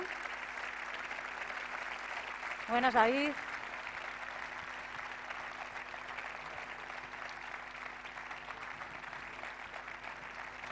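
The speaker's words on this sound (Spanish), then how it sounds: "Un fuerte aplauso." A crowd at a sports awards ceremony gives steady applause, heard faintly and at a distance, while a voice briefly speaks over it.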